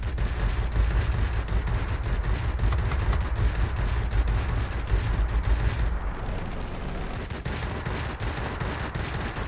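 Aircraft machine guns blaze in the World of Warplanes video game in sustained, dense rapid fire over a low rumble. The steady rattle dips briefly partway through, then carries on to the end.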